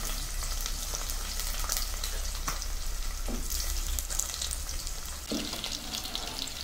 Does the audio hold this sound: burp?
no